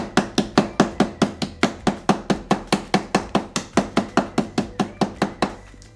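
Candy canes crushed in a Ziploc bag with something heavy, about two dozen loud, evenly spaced thumps close up, a steady pounding rhythm that stops near the end.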